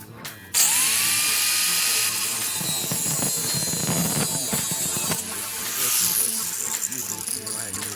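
A power tool cuts through the end of a seized CV axle bolt on a Mk6 2.5 during an automatic-to-manual swap, giving a sustained loud whining grind with a rising tone at the start.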